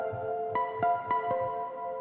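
A muted high ukulele one-shot sample from a MIDI kit plays a few soft, plucked notes in a short sequence, fairly quiet and without voices.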